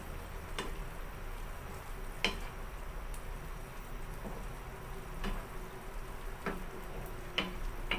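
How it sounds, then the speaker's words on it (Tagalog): A sweetened, sour-seasoned dish with calamansi is stirred in a pan, with sharp scraping clicks of the utensil spaced irregularly over a low, steady cooking hiss. "Halo-haloin ko lang din ulit."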